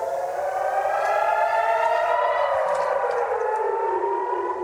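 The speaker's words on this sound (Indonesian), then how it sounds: "Lantaran sirine tanda serangan roket Hizbullah kerap berbunyi" Rocket attack warning siren in Kiryat Shmona, a loud sustained wailing tone that slowly glides downward in pitch and sounds alone without talk.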